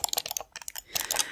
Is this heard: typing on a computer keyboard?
yes